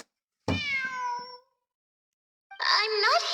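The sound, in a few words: cat meowing in the video game Genshin Impact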